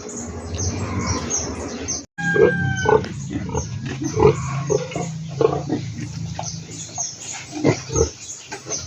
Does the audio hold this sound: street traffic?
no